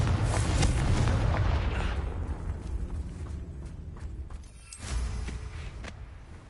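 In Hogwarts Legacy, the Confringo spell bursts in a loud, heavy explosion that rumbles and fades over a few seconds, followed by a second smaller blast. No one speaks.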